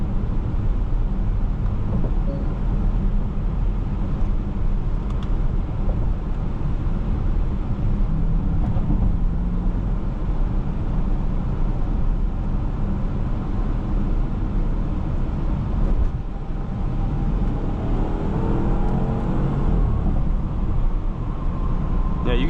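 A 2012 Porsche Cayenne Turbo accelerates hard, its engine a steady loud roar from the cabin with rising pitch toward the end, no speech over it.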